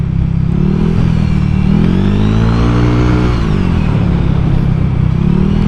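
An older Honda Vario 125 scooter revs, the engine and exhaust rising in pitch to a loud peak, then dropping back to a steady close, throaty hum.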